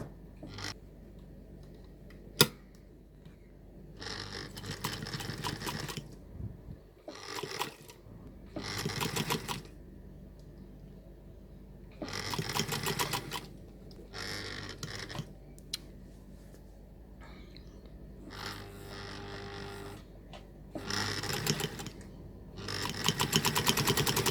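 A sewing machine stitches fabric for a lace zipper pouch at a half-inch seam allowance, running in short whirring bursts with pauses between for reverse stitching, close up and without speech.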